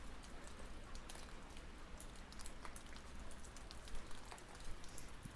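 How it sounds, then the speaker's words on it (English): A light rain shower patters steadily on surfaces outdoors, a soft even hiss of scattered drops with no voices. "It's only a light shower though."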